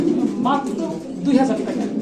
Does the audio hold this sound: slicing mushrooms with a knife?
no